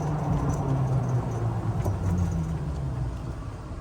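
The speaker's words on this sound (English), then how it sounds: "Coming up to a stop sign, so I'm gonna hit the brakes." A 2023 Icon i40L electric golf cart rolls on a road in Frisco, Texas, slowing toward a stop with a steady low motor hum, tire noise and rattling, loud and close throughout.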